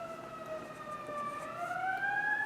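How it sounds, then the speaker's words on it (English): A siren wails outside, distant and faint, its rising and falling tone sliding steadily and growing slightly louder as it goes. "there's a siren going outside too"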